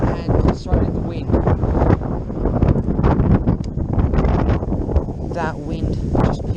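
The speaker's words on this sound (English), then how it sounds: "That wind just picked up" Strong gusting wind buffets the microphone beside a fishing pond, a loud continuous roar with bursts of rustle, while a voice speaks faintly underneath.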